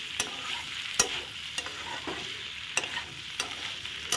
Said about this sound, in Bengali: ভালো করে নাড়াচাড়া করে কষিয়ে নিলাম।